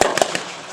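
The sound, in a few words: 50 caliber machine guns firing in battle reenactment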